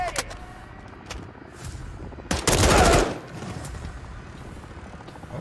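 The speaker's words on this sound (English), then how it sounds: "John got a mounted MG coming your way on an armored vehicle" Mounted machine gun firing from an armored vehicle in Call of Duty: Modern Warfare 3, sounding as a dense burst of rapid fire that peaks briefly mid-clip over a continuous battle din.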